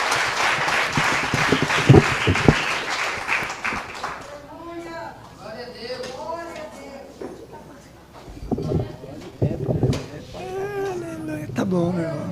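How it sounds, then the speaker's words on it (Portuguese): A church congregation claps for Jesus during a worship service, with dense applause in the first few seconds giving way to a leader's voice speaking over fading claps and murmuring. "Dê uma salva de palmas a Jesus."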